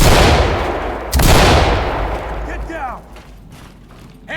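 Two loud explosive blasts from a stun grenade in the video game Ready or Not, one right after the other, each trailing off in a long hissing decay. Then fainter clatter follows in a game fight.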